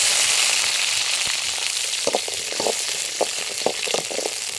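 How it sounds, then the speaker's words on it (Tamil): Garlic and shallots sauté in a pan on a stove for a ridge gourd chutney. A loud, steady sizzling hiss fills the clip, with intermittent stirring scrapes and taps in the second half. No one talks. "நல்லா வதக்கணுங்க"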